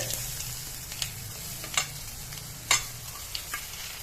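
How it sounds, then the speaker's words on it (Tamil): Urad dal filling pieces frying in hot oil for ulunthu kozhukattai, a steady soft sizzle broken by a few sharper crackles and pops, close and alone with no talk. "இதை இப்போ நம்ம வந்து இது எண்ணெயில் போட்டு"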